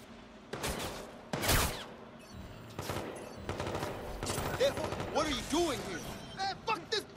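Gunfire from a sniper fight in the video game Watch Dogs 2, with sharp bursts and scattered shots that come and go over other game sounds and voices.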